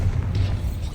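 The Bombarda blast spell in Hogwarts Legacy goes off as a single deep, booming explosion, a heavy low rumble lasting about a second.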